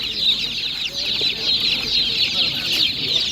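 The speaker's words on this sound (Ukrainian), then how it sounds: "Є домашні курчатка з квочкою." Several chickens, hens with chicks, cluck continuously close by at an animal market, a busy overlapping chatter of hen calls with no pauses.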